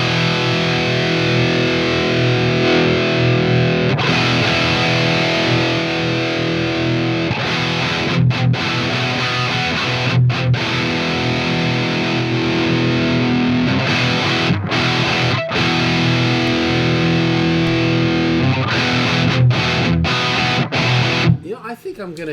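Baritone guitar run through a Kemper profiler's distortion 3 setting, with the signal compressed 4:1 on a Distressor, plays a dense, sustained distorted riff at steady loudness, broken by brief muted gaps, close and alone.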